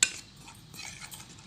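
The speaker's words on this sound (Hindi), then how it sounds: "अब हम इन अज्जा को अच्छे से मिक्सअप कर लेंगे" A spoon mixes a turmeric powder paste in a small bowl for an under-eye remedy, with a sharp clink at the start followed by soft, close scraping and stirring, quiet and alone.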